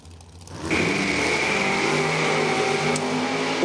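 1967 Camaro drag car launching hard down the strip, a sudden loud engine roar rising to a sustained high-revving wail close by.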